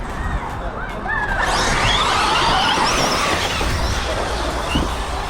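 A Tekno ET48 2.0 electric RC truggy on rubber tires is driven hard, giving a whirring motor whine with quick rising sweeps and gritty tire and dirt noise over steady background rumble.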